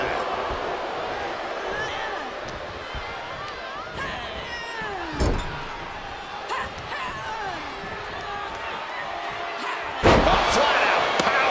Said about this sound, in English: Flat out power into the scoop slam.